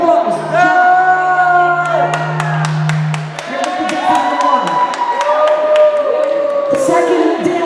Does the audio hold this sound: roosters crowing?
no